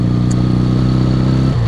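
A 1976 Honda CB 200 Twin motorcycle engine runs steadily at close range, a loud, even twin-cylinder throb with a slight shift in pitch near the end, with no voices.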